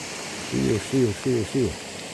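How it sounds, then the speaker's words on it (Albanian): A steady wash of rain falling on a November day in the Albanian countryside hisses evenly throughout, with four short voiced sounds breaking through in the middle. "Shiu."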